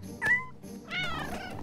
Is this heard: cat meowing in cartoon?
yes